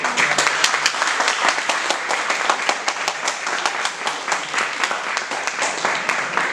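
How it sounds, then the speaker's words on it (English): An audience claps steadily in dense, sustained applause, with no talking over it. "A big round of applause."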